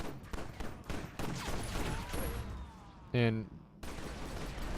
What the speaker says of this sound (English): I'm going to shoot this guy.